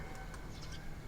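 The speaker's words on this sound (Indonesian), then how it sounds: "Kita lihat burung merpati" Soft cooing of pigeons, faint and brief, over a quiet steady outdoor background in a mosque's front yard in the morning.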